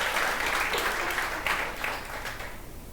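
A church congregation applauds during a worship service, a dense steady wash of many hands clapping at once that holds for a few seconds before easing slightly toward the end.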